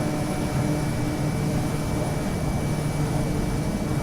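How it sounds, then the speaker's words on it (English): A steady, unbroken propeller-aircraft engine drone from an airplane flying in Microsoft Flight Simulator, loud and constant throughout with no voices. "I can hear the plane flying"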